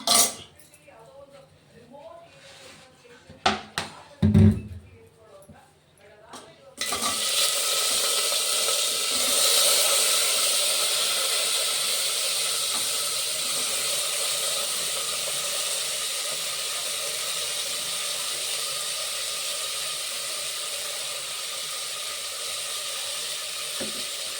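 Chopped onions for biryani sizzle loudly in a hot pan, a steady close frying hiss that starts abruptly after some clatter of utensils and a voice at the start, then continues alone.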